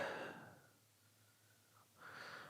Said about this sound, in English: I apologize for all the sniffling